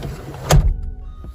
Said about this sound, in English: and the seat will fold forward